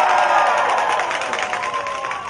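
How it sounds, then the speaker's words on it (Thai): Large outdoor political rally crowd cheering and shouting for the police, a loud sustained roar that slowly eases off, with no single voice standing out. "ขอเสียงโห่ร้องให้ตำรวจดังๆหน่อย"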